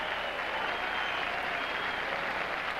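A tennis crowd at a 1978 Forest Hills semifinal applauds a point, a steady, dense roar of clapping from a large audience, sustained and even throughout.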